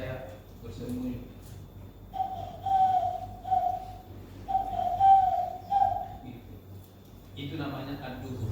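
A voice imitates a turtle dove's soft cooing, repeating low hooting phrases in a steady rhythm, with brief talk before and after.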